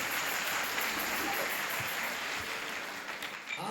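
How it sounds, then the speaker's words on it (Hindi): Congregation applauding during a Christmas church service, a steady, even wash of many hands clapping that sounds fairly distant and soft, with no voices over it. "इस बात के लिए जोरदार तालियां,"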